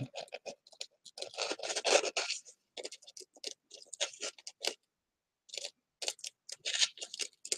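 Thin scratchy scraping and rasping of a layer being peeled off a gourd's surface along a wood-burned design, coming in short bursts with brief pauses, close and fairly quiet.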